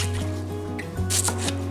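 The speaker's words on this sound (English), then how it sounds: "And I'm gonna chop up this onion." A knife chopping an onion on a cutting board in a home kitchen, a few soft quick taps under a steady low hum, with a brighter cluster of cuts near the end.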